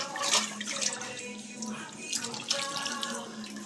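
Water splashes and trickles as it is poured into a pan of cooked vegetable curry, a soft, uneven running sound with light bubbling, fairly close and moderately quiet.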